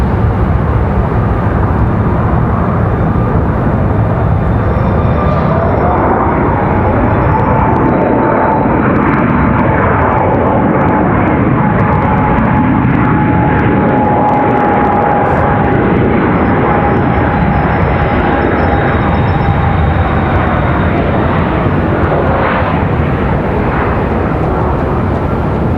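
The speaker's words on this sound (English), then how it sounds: "You guys probably hear that one. That's 737 MAX 8." Boeing 737 MAX 8 jet airliner passing near Raleigh-Durham airport, a loud, continuous engine roar filling the whole stretch, with a rising and falling whine as it goes by.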